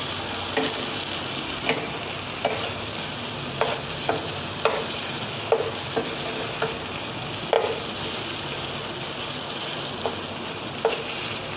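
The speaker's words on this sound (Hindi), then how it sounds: "सूजी को अच्छी तरह इसमें फ्राई होने देंगे।" Semolina frying in a pan for milk halwa, a steady sizzling hiss broken by sharp scraping clicks of stirring every second or so, close and continuous with no voices.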